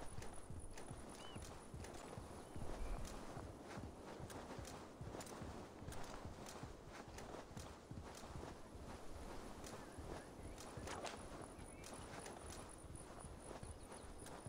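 Horse hooves clip-clopping steadily in Assassin's Creed Valhalla, a continuous rhythmic patter of hoofbeats at a brisk gait, fairly close and even in level, with a faint neigh and brief game sounds mixed in.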